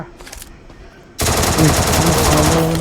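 Rapid automatic gunfire bursts loudly through a shooting video game, with a few scattered shots first and then a dense continuous volley of fire.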